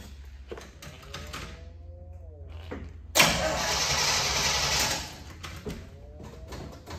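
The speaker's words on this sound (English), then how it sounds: "I'm gonna fire the car up so you can hear it run." A 1979 Pontiac Trans Am, not yet run that day, is cranked with a whirring starter and fires up with a loud burst, settling into a steady, rumbling idle, with a brief clatter afterward.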